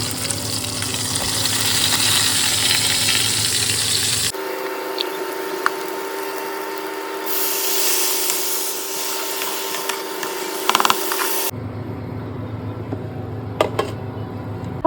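A kitchen fills with a steady frying sizzle and hiss, shifting in character as the scene cuts between takes, with occasional clatter and no speech.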